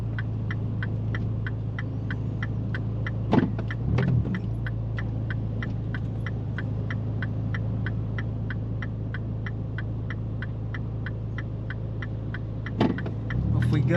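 Mini Cooper S (R56) hatchback rounding a mini roundabout, a steady droning engine and road rumble heard from inside the cabin, with a couple of brief knocks and thumps along the way.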